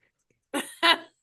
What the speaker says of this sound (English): he was like totally coughing in my mic